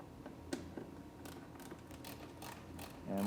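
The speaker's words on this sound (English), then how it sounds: "So now we can unbolt our mud flap on the driver's side." A mud flap is unbolted on the driver's side of a totaled 2020 Toyota RAV4 XSE Hybrid, with faint close ratcheting clicks and small metallic ticks at an uneven pace, quiet throughout.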